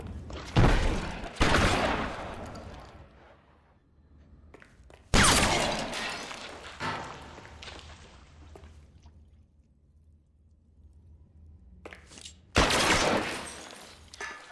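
Gunfire in the video game L.A. Noire: several loud bursts of shots in clusters near the start, middle and end, with quieter gaps and faint background noise between them.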